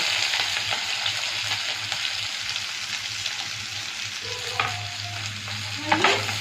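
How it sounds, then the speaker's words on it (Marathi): Onions, garlic, curry leaves and chilies sauté in a pan for a dried-fish chutney, a steady close sizzle and hiss with light stirring scrapes and a couple of utensil taps near the end; nobody talks. "हा कांदा चांगला परतून घेऊया"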